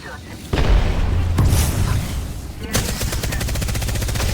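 An Arc Star grenade in a video game is thrown and goes off with a loud boom, then a crackling electric buzz pulses rapidly for the last couple of seconds amid gunfire-like bursts.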